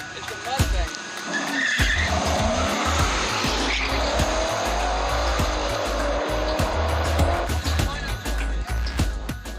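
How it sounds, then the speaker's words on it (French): Street race cars launch from the start line late at night, engines roaring loudly with sustained tire squeal and skidding for several seconds, with voices faintly in the background. "Le départ de la course entre les deux premiers bolides va pouvoir être donné."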